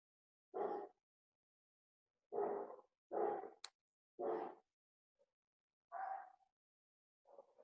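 Several separate dog barks come at uneven intervals, faint and muffled as if from a distance, with silence between them.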